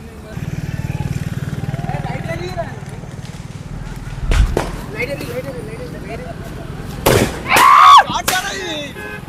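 Diwali firecrackers burst on a road: a few sharp, loud pops stand out near the middle and end, over ongoing street noise and chatter.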